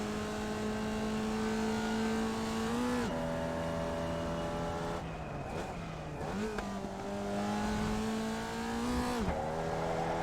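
A Formula Vee race car in iRacing at Lime Rock Park, spinning out after clipping a curb: a loud, steady engine drone dips sharply in pitch a few times, with brief scrubbing noise.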